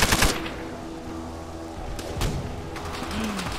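Gunfire in the Call of Duty: World at War mission Little Resistance, a burst of shots up front followed by scattered distant rifle cracks and thuds over a steady battlefield rumble.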